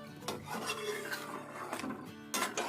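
Green chilli, yogurt and coriander masala for green mutton karahi being roasted in ghee in a karahi, with quiet scraping and stirring strokes of a utensil against the metal pan in an irregular rhythm.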